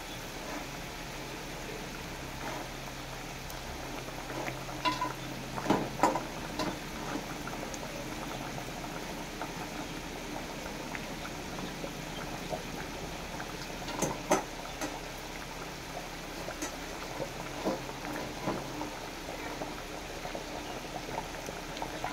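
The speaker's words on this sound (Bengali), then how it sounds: "ঝোলটা টকবক টকবক করে ফুটে উঠেছে।" Katla fish curry gravy with mustard and poppy seed boils steadily in a pan, giving a continuous close bubbling and simmering with a few sharper pops and clinks along the way.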